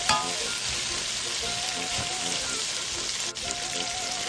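Chicken frying in a pan while black pepper is stirred in, a steady close sizzle with light scraping strokes and faint tonal squeaks from the utensil.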